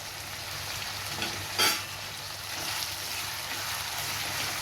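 Spicy chicken pieces frying in a pan with curry leaves give off a steady, soft sizzle, with one brief crackling burst partway through and a low background hum.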